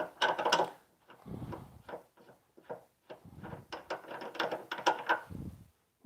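Waxed aluminium part screwed onto a threaded fitting in a woodturning workshop, a run of close, uneven ratcheting clicks and scraping turns, with short pauses between twists.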